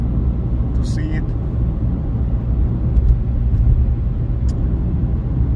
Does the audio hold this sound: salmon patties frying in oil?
no